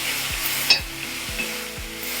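Fenugreek leaves sautéing in a hot tempering for a palya, with loud close sizzling and four regular scraping stirs of a spoon across the pan, no voices.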